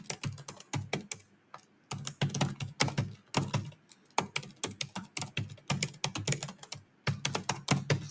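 Code being typed on a computer keyboard, with rapid close key clicks coming in bursts separated by short pauses.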